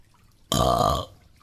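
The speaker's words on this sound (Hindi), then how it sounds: "तभी कालू जानबूझकर डकार देने लगता है।" A cartoon crow lets out a single loud, drawn-out burp lasting about half a second, close and alone with no talking.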